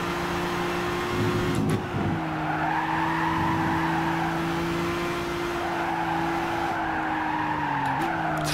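Car in the Gran Turismo 6 racing game braking late, with a steady engine drone and sustained tire squeal under it, holding loud throughout with a brief shift midway.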